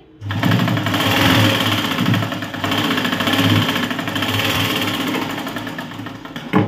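A sewing machine runs steadily for several seconds stitching a blouse, a fast close mechanical whir with a continuous rhythmic hum and no voices over it.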